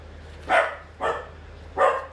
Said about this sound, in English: my puppy's barking, of course, because I'm trying to film